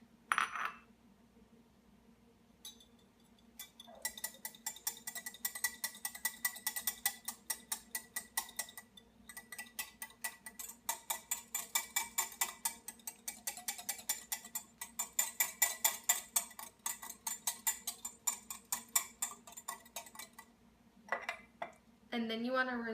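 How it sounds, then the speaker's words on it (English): Egg yolks whisked by hand in a bowl for custard filling, a fast run of metallic clinks and taps from the whisk striking the bowl, steady and close, continuing for most of the stretch with brief pauses. "Quickly, you want to whisk together 2 egg yolks"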